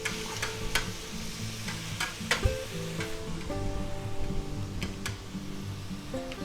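Minced garlic sizzling in a pan as it is stirred, a quiet steady fry broken by scattered clicks and scrapes of the utensil, heard up close with no talking.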